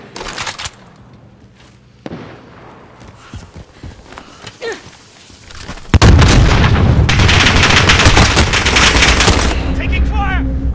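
Gunfire in Call of Duty Warzone Plunder mode: scattered sharp shots at first, then from the middle a dense, loud burst of sustained automatic fire and explosions that keeps going to the end.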